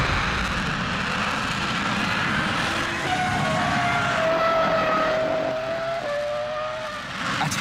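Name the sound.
Eurofighter jet engine with afterburners on full reheat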